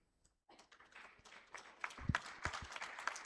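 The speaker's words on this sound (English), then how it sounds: "A big clap for them." Audience applause at a health summit closing session, a scattered patter of clapping hands that builds after a brief silence and holds steady at moderate loudness.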